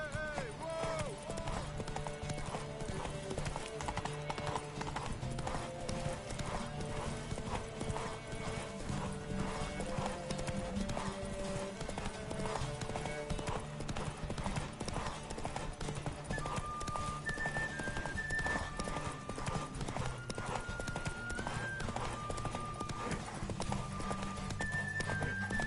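Horse hooves gallop in The Witcher 3 video game: a fast, steady clip-clop rhythm runs throughout with occasional whinnies, under game music and voices.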